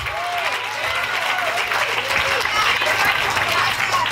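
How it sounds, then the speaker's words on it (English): Wedding guests applaud steadily for the groom in a reception hall, a dense continuous wash of clapping with a few voices and whoops rising over it. "All right, one more round of applause for Hal."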